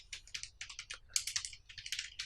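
Someone types on a computer keyboard, a rapid irregular run of light close clicks and taps with brief pauses, fairly quiet and with no talking.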